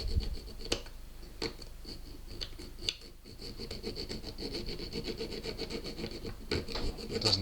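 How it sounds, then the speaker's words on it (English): A small file rasps around the edge of a pistol part to take off a burr. Short scraping strokes come close up in an uneven rhythm, some sharper than others, with no talking. "I've just got a small file here and I need to get right around the edge and take that burr off"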